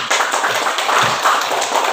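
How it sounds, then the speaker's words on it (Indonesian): Hand clapping from a class group during a school practice session, a steady patter of many claps at moderate loudness with no talk over it. "Tepuk tangan"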